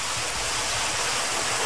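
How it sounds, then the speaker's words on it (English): Laminar water streams from fountain jets pour in a constant, dense rushing hiss, loud and unbroken throughout, with no voices. "We can adjust the flow and bring these streams together and create what we call laminar sparks."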